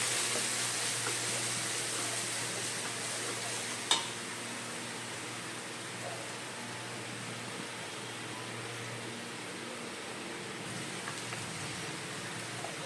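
Chopped garlic, ginger and green chillies frying in a pan for noodles give a steady, even sizzle with one brief clink near the start, continuing at moderate level without talk.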